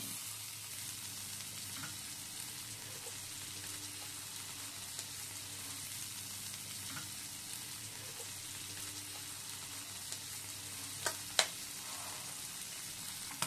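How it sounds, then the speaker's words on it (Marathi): Paneer cubes sauté in a pan for palak paneer, giving a steady, soft sizzle and fry close by, with occasional light clicks and stirring taps near the end; no talking. "याच्यामध्ये आपण पनीर सॉटे करून घेणार आहे थोडंसं."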